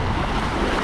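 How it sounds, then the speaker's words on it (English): Ocean surf at Byron Bay, Australia, a steady broadband wash of breaking waves with wind noise on the microphone, loud and continuous, no voices. "Look at those waves."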